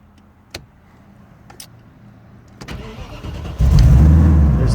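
A 1990 Audi V8 quattro sits quiet apart from a few faint clicks, then its starter cranks and the engine builds into a loud, close rumble that holds to the end.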